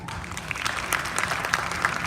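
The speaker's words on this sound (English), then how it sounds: "So please, for me, we could give everybody a round of applause." Opening-night theatre audience applauding the cast of a Repertory Philippines production, continuous clapping with a few louder individual claps rising above the steady crowd sound.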